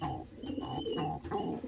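A pigeon hen coos in a loft in a low, rhythmic series of soft rolling calls, close and steady, with no talking.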